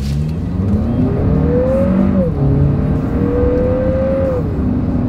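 A 2025 Lexus NX 350 turbocharged four-cylinder SUV accelerating hard from a standstill on a straightaway, its engine note rising steadily through the gears with brief dips at each shift, loud and close over constant road and wind noise.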